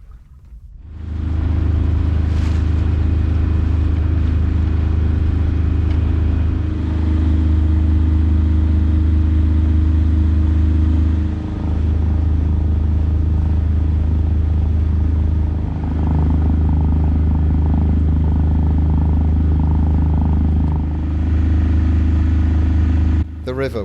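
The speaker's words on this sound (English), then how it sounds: "I had to turn the engine on." Inboard engine of a 20-foot Norfolk Gypsy sailboat running steadily, a loud, close, continuous low throb with a constant drone and brief dips in level, alone without talk.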